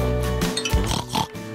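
A pig grunts, oinks and snorts at close range in a museum setting, a quick run of rough nasal sounds with faint voices in the background.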